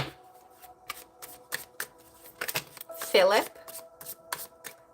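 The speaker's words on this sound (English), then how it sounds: "So let me shuffle a little more" Tarot cards shuffled by hand during a reading, soft quick riffles and taps in short bursts, with a voice speaking over parts of it.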